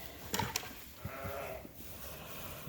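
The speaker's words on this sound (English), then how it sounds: "loading those sheep now." Suffolk sheep bleat during loading onto a truck trailer at a farm, two sharp close bleats early on followed by softer overlapping calls and background shuffling.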